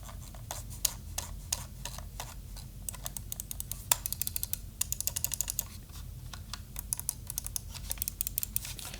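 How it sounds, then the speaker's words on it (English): Roccat Kone XP Air gaming mouse, an older model with stiff, loud clicks, giving a steady series of sharp close clicks and scroll-wheel ticks in quick irregular bursts over light background hiss, with no talking. "I'll do the scroll wheel and then left, right click and a few buttons."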